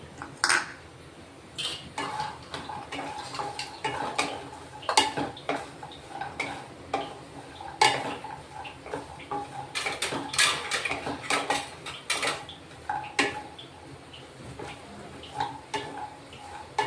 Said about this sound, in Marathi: आपण आता अक्रोड भाजून घेऊ